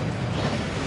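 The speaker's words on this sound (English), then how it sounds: "That waterfall washes away all enchantments." The Gringotts waterfall in Hogwarts Legacy gives a brief, steady, broadband rushing roar of falling water, loud and close with no pauses.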